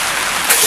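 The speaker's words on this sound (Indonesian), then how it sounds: "Ini hujan teman-teman" Steady outdoor rain during the cooking of nasi liwet with salted tawes fish, a constant hiss that stays loud and even throughout.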